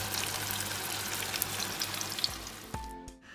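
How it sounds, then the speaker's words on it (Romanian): Onion sizzling in hot oil in a roasting tray, a steady loud crackling hiss throughout, close up, ending with a brief clunk and quiet. "Hai să vedem ce fain sfârâie ceapa."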